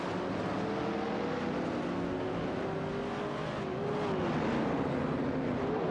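Race cars including a 1972 De Tomaso Pantera GTS and a 1971 Dodge Charger Super Bee in a racing video game, a steady loud engine roar with shifting pitch throughout.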